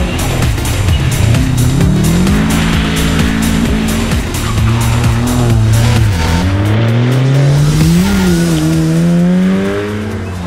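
Subaru and Audi TT rally cars battling at the front of a rally-masters event, with loud engines revving and shifting up and down through the gears, close and continuous, and a commentator talking over them.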